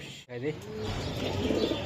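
A black chequer racing pigeon coos briefly nearby against a noisy, rustling background.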